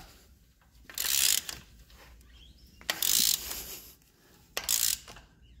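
A hand ratchet turns the crankshaft of a Chrysler 2.4L engine, giving three separate bursts of rapid clicking, each about half a second long, between quiet pauses, close by with no talking.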